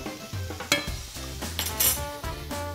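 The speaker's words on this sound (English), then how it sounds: "I'm gonna go check on my radishes over here real quick, give it a quick stir" Radishes and cucumbers sauté in a pan, a soft sizzle under a few quick stirs with clinks of a utensil against metal.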